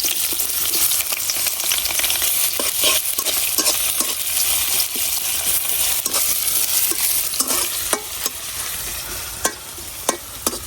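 Onion frying in oil in a wok, with a steady close sizzle throughout and occasional stirring scrapes and clicks from a utensil against the pan.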